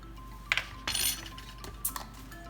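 Metal measuring spoons clink against each other and a bowl while baking powder is portioned for muffins, a few light, bright taps spaced irregularly over a quiet kitchen hum.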